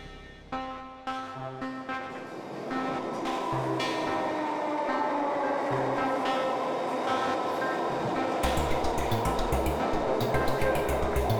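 A train rumbles steadily along the track, a continuous low roar with metallic ringing and squealing tones rising over it, growing busier toward the end.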